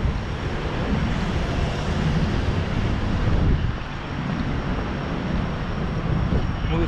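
Strong wind buffets the microphone outdoors at Nippon Maru Memorial Park in Minatomirai, Yokohama, a loud continuous roar that dips briefly midway, with speech faintly present.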